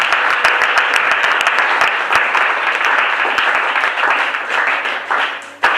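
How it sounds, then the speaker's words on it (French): A church congregation applauds together at a service, steady loud clapping filling the whole stretch without a break, then swelling briefly near the end. "On acclame le Seigneur."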